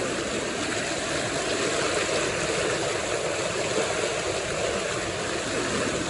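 Floodwater after rain on a ranch rushes over a concrete bridge in a steady, loud, unbroken roar of flowing water close by.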